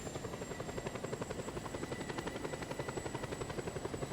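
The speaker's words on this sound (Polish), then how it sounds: "Trzy helikoptery, patrzcie. Jeden bojowy." Several helicopters, including attack and transport choppers, in the Just Cause 2 video game: a steady, fast rotor chop beating continuously, fairly loud and with no talk.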